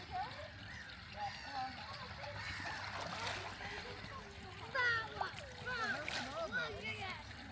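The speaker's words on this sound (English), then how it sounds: "Just the water go over his back and then immediately just dissipates" Light splashing and trickling water close by as a swan splashes water over its back at Martin Mere, with a few louder splashes near the end, while people talk quietly in the background.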